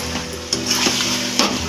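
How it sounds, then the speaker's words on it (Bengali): Chicken kosha curry is stirred in a pan with ginger paste, a spoon scraping and pushing the sizzling mixture in a couple of firm strokes, close and alone. "আবার ভালো করে নাড়াচাড়া করবে।"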